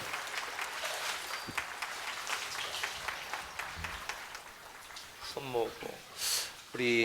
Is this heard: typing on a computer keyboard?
no